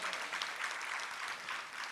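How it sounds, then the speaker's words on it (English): An audience at a parenting-track professional development session claps steadily for two seconds, a quiet, even patter of many hands with no voices over it. "Next round of applause for her."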